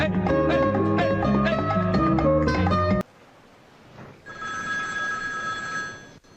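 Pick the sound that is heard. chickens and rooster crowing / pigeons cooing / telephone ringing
telephone ringing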